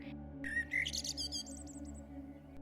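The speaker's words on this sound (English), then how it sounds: "The bird chirped once more" A small bird gives a quick run of bright, high chirps and whistled notes, close and clear over a low steady background hum in a cozy forest setting.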